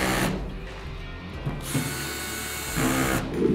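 A 7/16 ratchet clicks in quick repeated strokes as bolts on a truck bed drawer system are tightened, close and fairly quiet, with short pauses between bursts of clicking.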